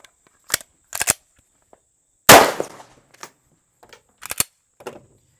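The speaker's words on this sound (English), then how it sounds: "they're going to shoot it like normal" Live pistol rounds crack out in a flinch drill at a range, several sharp reports spaced irregularly, one especially loud and close, with smaller clicks and handling noises in between.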